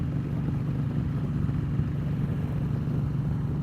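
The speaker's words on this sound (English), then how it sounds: "this exhaust is pretty loud. It's not exactly quiet." Steady low engine rumble of a Honda VTX1300 motorcycle exhaust while riding, loud and continuous with a slight rough pulse, no voices.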